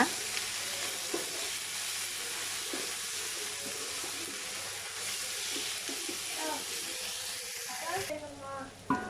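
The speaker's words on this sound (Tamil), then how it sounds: "இப்போ வந்து இஞ்சி பூண்டு பேஸ்ட் வந்து போட்டுக்கலாம். இப்போ அதுவுமே நல்லா பச்சை வாசனை போகிற வரைக்கும் நல்லா கிளறி விட்டுருங்க." Ginger garlic paste fries in a pan for a North Indian masala biryani, crackling with a steady sizzle while being stirred, with occasional scraping near the end.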